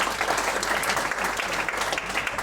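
Audience applause at a Pecha Kucha presentation night in Ubud, Bali, a steady, dense wash of clapping from a room full of people, sustained and fairly loud throughout with no talk over it.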